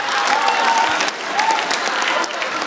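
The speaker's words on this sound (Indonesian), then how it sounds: "Tepuk tangan buat" An audience applauds a stand-up comedian with steady, dense clapping that stays loud throughout, accompanied by a faint crowd murmur.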